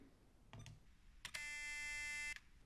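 A single steady electronic beep from a Canon X-07 computer, a C note lasting about one second, clear and close, preceded by a couple of soft clicks in a quiet room.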